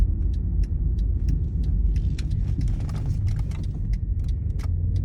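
A 2008 Mercedes GL550 in limp mode with a P0718 transmission fault, driving and downshifting gears; a continuous low engine and road rumble from inside the cabin with scattered light clicks and rattles.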